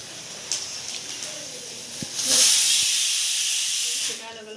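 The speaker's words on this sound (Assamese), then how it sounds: "প্ৰথম তেলখিনি অলপ গৰম কৰি লোৱা হ'ল এয়া অলপ মেথি গুটি দিয়া হৈছে পাঁচফোৰণ দিছোঁ দেই" Fenugreek seeds and panch phoron spices hit hot oil in a home kitchen, bursting into a loud, steady sizzling hiss that swells midway and holds for about two seconds before easing off, with faint clicks beforehand.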